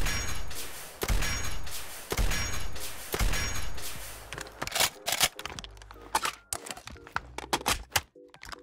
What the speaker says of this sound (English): And then of course the reload animation.